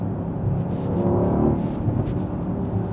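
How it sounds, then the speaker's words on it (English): Continuous engine rumble with irregular popping crackles from the exhaust of a Mercedes-AMG GLE63 S SUV, fairly loud and close, with no talking. "I hope you can hear those crackles."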